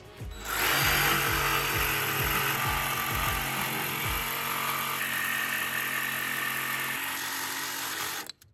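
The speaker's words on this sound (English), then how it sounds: "Now this one's going to be a little bit trickier with the jigsaw." A jigsaw cuts through wood to shape a homemade wooden sword, its blade buzzing loud and steady for several seconds, with a few low thumps as it starts and a drop in pitch near the end of the cut.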